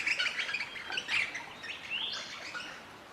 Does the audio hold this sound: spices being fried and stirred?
no